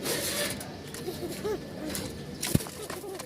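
A pair of breeding pigeons, male and female, coo in soft repeated rising calls at close range over a murmur of background noise, with one sharp knock near the end.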